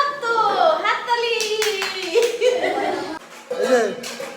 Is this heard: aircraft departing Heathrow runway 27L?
no